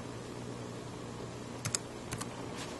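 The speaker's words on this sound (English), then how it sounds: "You just start typing." Several quick keystrokes on a laptop computer keyboard, soft and close, in two small bursts over a faint quiet background.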